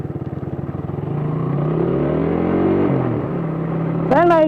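A motorcycle engine starts and runs after a battery replacement, a steady near rumble that builds and holds, then rises briefly in a rev near the end.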